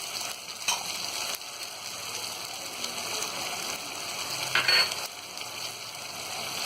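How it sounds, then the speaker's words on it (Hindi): Tomatoes, green chillies and biryani masala fry in a pan for egg biryani, giving a steady, moderately loud sizzle with a brief louder burst near the end and no talking. "अब इसे अच्छी तरह हम भून लेंगे।"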